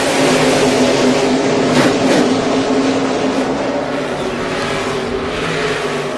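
A pack of stock cars roaring off at the start of a NASCAR video game race at Richmond, a loud continuous engine drone that stays dense and steady throughout.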